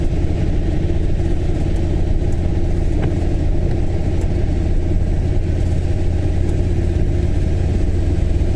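A bus drives close behind a car on a trip to Edinburgh. Its engine gives a steady, loud low rumble that holds constant throughout, with no speech.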